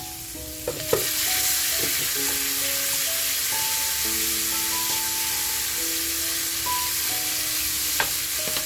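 Mutton kheema and pav frying in butter with chopped coriander in a pan, a steady close sizzle throughout, with a soft tonal melody playing underneath.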